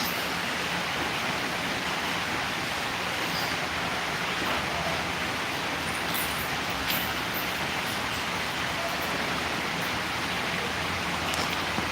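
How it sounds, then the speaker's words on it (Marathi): Steady rain falls with a dense, even hiss that continues without a break, no voices over it. "बघा पाऊस सुरू झालेला आहे बघा पाऊस"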